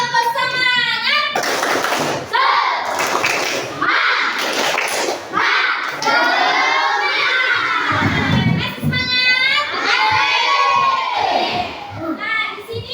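Elementary schoolchildren in an Indonesian classroom (SD Negeri 2 Mekarjaya) clap out a rhythmic group chant together, shouting in unison with bursts of synchronized clapping, loud and close, with a teacher leading.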